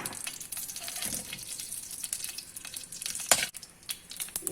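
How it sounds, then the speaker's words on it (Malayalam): Mustard and cumin seeds sizzling and popping in hot mustard oil, a close, crackling hiss with sharp spits and pops, one especially loud burst partway through. "നല്ലോണം ചൂടാകുമ്പോൾ നമ്മൾ ഒരു നുള്ള് കടുക്, 1/2 ടീസ്പൂൺ വീതം കടുകും ജീരകവും ഞാനിട്ടു."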